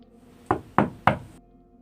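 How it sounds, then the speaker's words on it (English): Three loud, sharp knocks on a door fall in quick, even succession, close and isolated with nothing else around them. "Late at night, loud knocks would be heard on the home's door."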